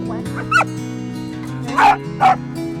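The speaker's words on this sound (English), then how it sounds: "They're just this mix of mongrels and little dogs and big dogs and scruffy dogs and fat dogs." A pack of mixed mongrel dogs, big, little and scruffy, gives several sharp barks and yips close by over steady background music.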